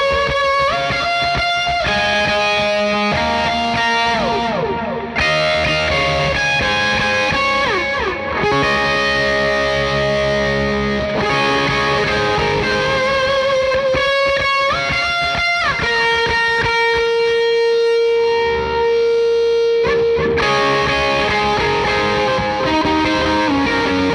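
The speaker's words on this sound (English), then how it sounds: "I didn't want it to influence the gain character of the Nero Fuzz that you're hearing too much" Electric guitar through a Cornerstone Nero Fuzz pedal with LVX stereo widening, playing dense, sustained, saturated chords and melodic lines continuously and loud with no voice over it.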